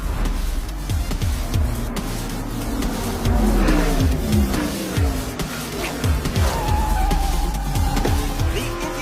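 Race cars speeding around a track during a 50-lap race, a loud continuous engine roar with rising and falling pitch sweeps as cars pass, filling the whole stretch without talk.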